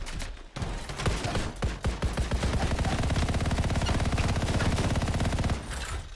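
Rapid, dense bursts of sniper and automatic gunfire rattle in the video game Anthem, a sustained volley of sharp shots in quick succession that fades briefly at the end.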